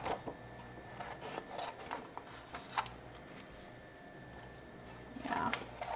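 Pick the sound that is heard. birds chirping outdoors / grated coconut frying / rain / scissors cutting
scissors cutting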